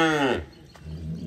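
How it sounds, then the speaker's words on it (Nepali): A cow at a rural Nepali home gives one low, drawn-out moo lasting under half a second, close by, then gives way to quiet background noise. "गाई किन कराएको"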